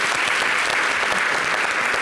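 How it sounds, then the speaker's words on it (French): A studio audience on a French-language television talk show gives a guest steady, dense applause that stays even and fills the whole moment. "merci de l'applaudir"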